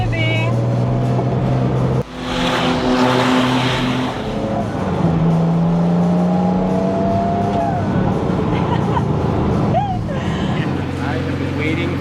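A RUF CTR Anniversary supercar on a racetrack gives a loud, continuous engine roar that rises and shifts in pitch through gear changes, with a person talking over it.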